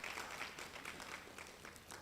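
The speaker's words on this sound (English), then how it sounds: "But we can clap for him in absentia." Faint, steady clapping from an audience at a conference opening ceremony, a soft, continuous patter of many hands with no speech over it.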